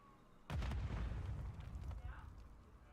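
A grenade goes off in Call of Duty, one heavy boom with a crackling rumble that fades over about a second and a half, loud and close, under game ambience.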